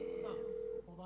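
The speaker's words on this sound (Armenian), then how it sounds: "Jane Norris, զանգում ենք Jane Norris-ին։" A phone call ringing in GTA V, a steady electronic ring tone holding for most of a second before cutting off, with a voice beginning just after it.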